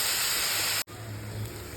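Onions sautéing in a pan for tomato pachadi, a steady loud sizzling hiss close up that cuts out for an instant and resumes just as strongly.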